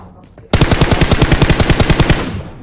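Rapid automatic gunfire in a video game, a loud close burst of about twenty evenly spaced shots in steady rhythm after a short quiet lead-in.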